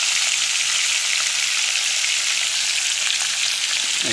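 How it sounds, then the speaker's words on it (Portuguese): Fish sizzles in a pan set over a campfire on a riverbank, a loud, steady frying hiss that continues unbroken from start to finish. "Aí, fritando aí pra vocês."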